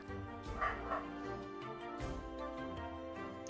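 A dog barks and yips in short bursts with some whimpering, close by and fairly loud, under background game sounds.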